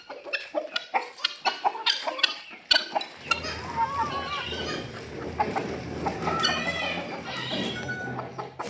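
A backyard flock of hens and young roosters clucks in a busy overlapping chorus, close and lively, after a voice speaks briefly at the start.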